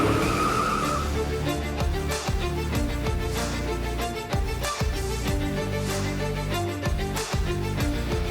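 Toyota Scion in a CarJitsu match, engine revving hard with repeated loud tire squeals and skids, dense and continuous with layered whines and screeches throughout.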